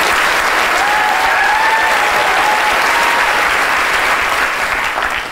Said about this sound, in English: a big round of applause to Kate and Billy.